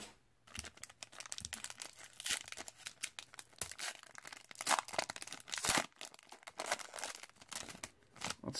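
Crinkly wrapper of a 2018 Panini football retail card pack being torn open, a close, continuous run of crackling rips and plastic crunches with sharper bursts, alone without talk.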